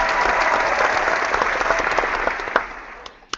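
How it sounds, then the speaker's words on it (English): Audience applause at the close of a business presentation, a dense steady clapping from a crowd that thins out and fades toward the end, with a few sharper individual claps near the finish. "We give you a last round of applause."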